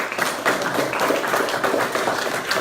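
A crowd at a trad music festival launch gives a round of applause for the band, steady dense clapping filling the whole stretch without any voices on top.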